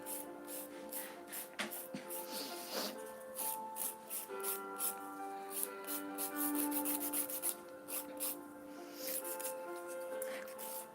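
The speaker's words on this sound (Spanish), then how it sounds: "vamos a retirar los bordes que quedan con la lima" Nail file rasping along the edges of gel nails, a steady run of short scratchy rubbing strokes close by, with faint background sounds between passes.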